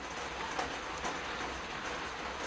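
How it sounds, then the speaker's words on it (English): Rain falls outdoors on a June day around a bonsai nursery with trees sitting on benches, a soft, even hiss of drops with a couple of slightly louder spatters, heard alone at a low level. "Outside today it is raining, so free watering of all the trees that are on the benches."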